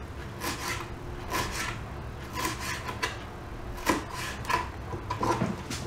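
A knife slices onions into thin strips on a cutting board, with soft repeated cutting strokes and board knocks at an irregular rhythm, fairly quiet and close with no talk.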